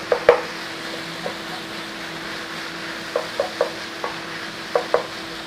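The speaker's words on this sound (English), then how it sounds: "Stir it in." Beef mince with tomato puree is stirred in a pan: soft sizzle under a steady hum, with scattered close spoon knocks and scrapes at irregular intervals.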